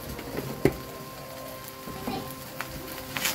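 Sweet leaf shoots and egg fry in a pan with a soft, steady sizzle, broken by a few sharp clinks and scrapes as a utensil stirs them close by.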